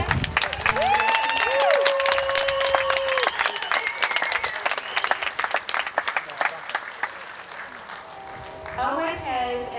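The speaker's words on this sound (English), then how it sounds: "If we have one last round of applause for our award recipients." A high school graduation audience gives a round of applause for award recipients: crisp, close clapping rises, thins out toward the end, and is joined by voices and some sustained tones.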